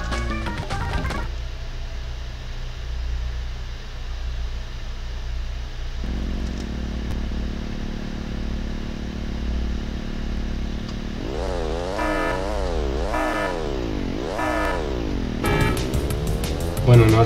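Kart engines in the Crash Team Racing video game hum steadily at the race start, then rise into repeated revving sweeps as the karts accelerate, held at a constant loud level.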